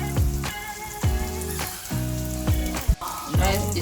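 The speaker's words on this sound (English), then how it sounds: "You continue until all the batter are fried" Potato batter fries in hot oil with a continuous close sizzle, broken by several sharp bursts of crackling and spattering as spoonfuls drop into the pan at irregular intervals.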